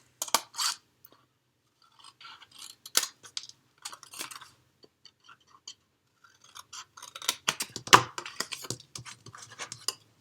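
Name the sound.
trimming paper box tabs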